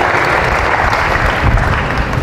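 Church congregation clapping at a Christ Joy healing service in Salawag, Dasmariñas, Cavite; a dense, steady wash of many hands applauding together, loud and close, with no break over the short stretch.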